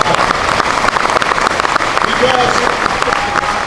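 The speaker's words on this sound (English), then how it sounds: "Yeah, that's worth applauding." An audience at a political speech breaks into applause, a broad burst of clapping heard together with a voice speaking over it, both fairly loud and close.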